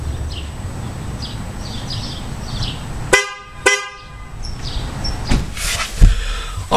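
New horns on a 2009 Toyota Camry sound two short, loud honks close by, followed by clunks like a door or hood being shut.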